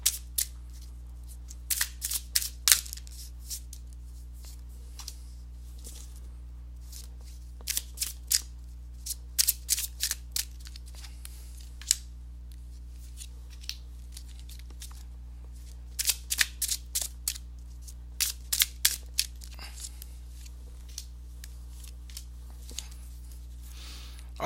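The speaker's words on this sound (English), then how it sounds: "let me go ahead and give these cards a shuffle" Crisp, papery riffles and snaps of tarot cards being shuffled come in short irregular bursts with quiet gaps between, close up.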